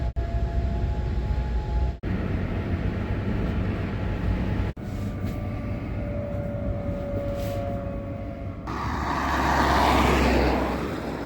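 A passenger train heading to Koidula in Estonia rumbles steadily from inside the carriage, with two brief sharp breaks in the noise and a louder swelling roar near the end.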